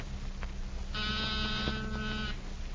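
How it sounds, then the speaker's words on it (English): A steady electric buzzing tone from a small battery-powered door buzzer sounds for about a second and a half over a low background hum, then cuts off. "An ordinary door buzzer."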